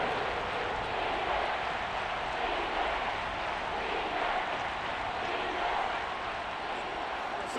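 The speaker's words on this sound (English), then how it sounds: "The crowd getting into it as we come up on a big third down" Stadium crowd noise from Madden NFL 23, a steady, dense roar of fans rising ahead of a big third down, loud and continuous throughout without clear breaks.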